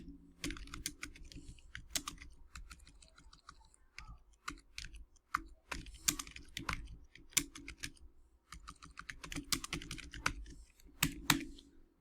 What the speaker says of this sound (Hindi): Ctrl+A प्रेस करेंगे